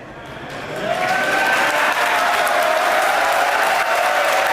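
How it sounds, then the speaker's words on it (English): A large crowd at a SpaceX Starship launch cheers and applauds, swelling quickly to a loud, sustained roar of clapping and shouting. "I have a feeling the crowd's about to go wild here."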